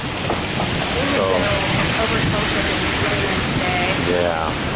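Steady rain pours outside Busch Stadium in St. Louis, a dense hiss that fills the whole stretch, with faint voices murmuring in the background.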